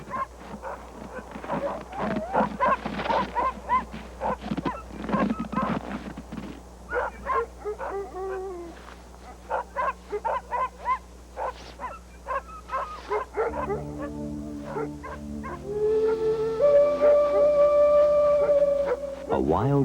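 A family's sled dogs in Alaska, several of them descended from a wild timber wolf, barking and yipping in quick bursts, close and loud, followed by whimpers and higher whining calls toward the end.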